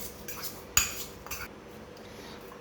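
Garlic and other ingredients mixed in a bowl, giving a few soft, close scrapes and one sharp clink of utensil against the bowl in a quiet room.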